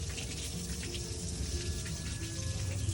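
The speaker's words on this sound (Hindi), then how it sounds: "हमने टैंकी के लिए पानी लगाया हुआ था और पानी हो गया है ओवरफ्लो" Water overflowing from a filling household water tank, a continuous close splashing gush that runs steadily and unchanged throughout.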